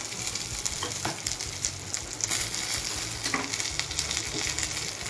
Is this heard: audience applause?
no